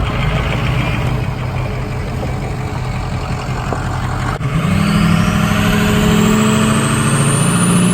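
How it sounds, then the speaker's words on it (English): A Duramax diesel pickup truck idles nearby with a steady low rumble, then gets louder and fuller partway through as a rising whine joins in; no talking. "I think the Duramax sounds better still."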